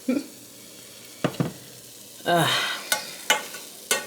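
Coconut aminos hit a pan of reheating cabbage fried rice made from beans and rice, with a soft sizzle swelling briefly, then several sharp stirring clicks and scrapes against the pan.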